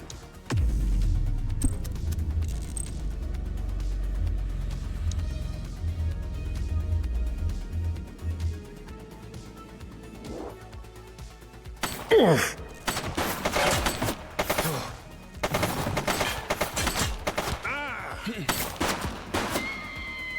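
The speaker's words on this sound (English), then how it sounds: "She's shooting!" Gunfire from a female shooting suspect in The Precinct video game erupts in rapid, loud bursts of shots and rattling volleys in the second half, after a low rumbling stretch, with game voices in the mix.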